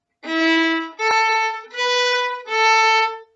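Four bowed viola notes in a steady sequence: first finger on D, open A, first finger on A, open A, each held about a second, alternating between two nearby pitches, played alone and clearly.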